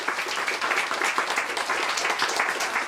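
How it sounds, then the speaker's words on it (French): Dense, steady applause from an audience welcoming a speaker at a product discovery and UX research talk, a continuous wash of many hands clapping for about three seconds without a break. "on introduit avec un tonnerre d'applaudissements France"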